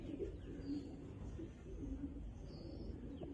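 Soft, low pigeon coos repeat faintly against a quiet, muffled background, with a few thin chirps mixed in.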